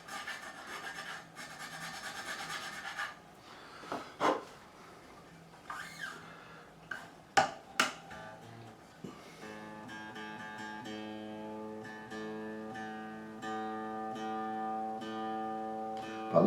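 A file rasps in short strokes across the nut slot of an Ibanez RG421 guitar, followed by a plucked string ringing with a buzzy, sitar-like tone, all close and fairly quiet.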